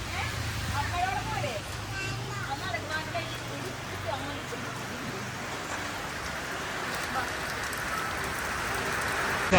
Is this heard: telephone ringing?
no